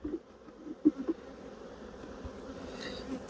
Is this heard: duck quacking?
no